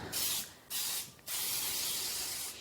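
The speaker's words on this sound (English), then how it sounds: "I'm just going to use that and spray the inside of the pan." Baker's Joy baking spray hisses from an aerosol can into a cake pan in three bursts: two short ones and then a longer continuous spray, close and clear with no voices.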